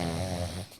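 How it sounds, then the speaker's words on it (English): Snoring from a whole team of people settled into sleep, a faint, steady low rasping drone that holds for most of the moment and then fades out. "the audience can hear the faint sound of snoring coming from the entire team"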